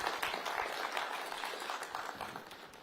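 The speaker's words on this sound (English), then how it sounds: "huge round of applause for all the community organizers" A conference audience applauds community organizers at an Asian cloud and AI tech event, a dense, fairly quiet wash of many hands clapping that tapers slightly toward the end, with no voices over it.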